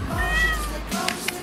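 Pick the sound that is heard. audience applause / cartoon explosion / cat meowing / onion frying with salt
cat meowing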